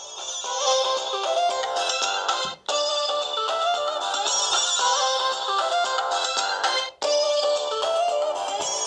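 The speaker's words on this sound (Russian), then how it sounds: "Давайте послушаем звук рингтона." A melodic electronic ringtone plays from a Blackview Tab 8 tablet speaker. The tune loops steadily, with two brief breaks between repeats, and no voices are heard.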